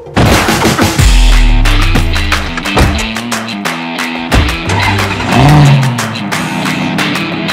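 A car driven hard at Mondello Park, loud and close, revving and accelerating with the engine note climbing and dropping through gear changes, punctuated by sharp bangs and pops across the whole stretch.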